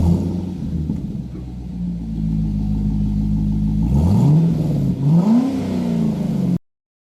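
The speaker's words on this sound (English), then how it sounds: "Let me show you an exhaust clip." A Chevrolet Corvette's exhaust idles with a deep rumble, then revs up sharply twice in rising and falling sweeps before cutting off abruptly; loud and close, with no talking.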